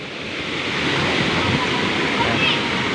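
Talon Falls rushes as a waterfall, a loud, steady broadband roar of falling water that swells slightly and continues without a break, close to the microphone.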